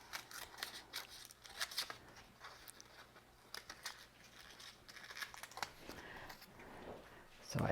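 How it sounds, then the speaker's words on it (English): Scissors snip through paper to cut a mask for stamped card making, a run of crisp, close cuts with light paper rustle and crinkle between them, no voice over the cutting. "So I just cut it a little bit."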